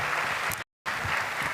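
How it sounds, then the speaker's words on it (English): Steady applause from a crowd, dense and continuous, cutting out abruptly for a moment before resuming at the same level. "Another round of applause to our students."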